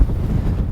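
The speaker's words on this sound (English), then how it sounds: "It is a little bit windy, and I hope you can still hear me." Steady wind buffeting a microphone outdoors by a sand dune, a continuous low rumbling roar with no pauses, loud and close throughout.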